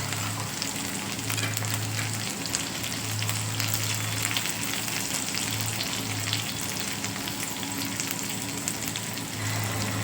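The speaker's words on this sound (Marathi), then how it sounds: "तेलामध्ये आता पेचलेलं लसूण आहे ना असं टाकायचं" Crushed garlic fries in hot oil for a Marathi dill greens dish, a dense, continuous close sizzle with a low steady hum underneath and no talk.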